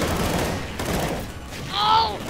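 Rocket launcher fire and explosions in a video game: a dense burst of rapid loud blasts and gunfire, with a brief ringing mechanical tone near the end.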